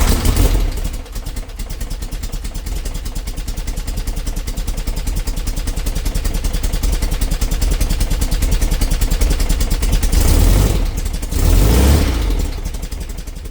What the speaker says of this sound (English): So that was a cold start